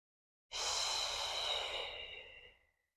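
One long, deep breath during a Pilates exercise, close and breathy, swelling quickly and fading over about two seconds with no talking.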